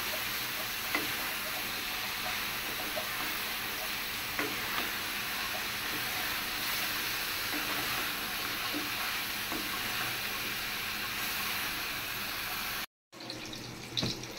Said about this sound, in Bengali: লতিটা চুলা কমাই দিয়ে আমি আস্তে আস্তে কষাই নিতেছি।